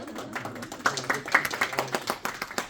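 A small group of people claps in a quick, uneven patter of individual hand claps, close by and moderately loud, lasting a few seconds.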